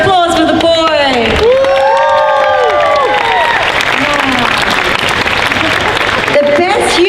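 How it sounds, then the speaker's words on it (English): A large crowd at the 2018 Dragon Con Friday night costume contest in Atlanta claps loudly and continuously, with cheers, whoops and shouted voices riding over the applause throughout. "a big round of applause for the boy"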